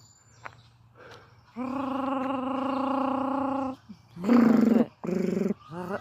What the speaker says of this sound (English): two kookaburra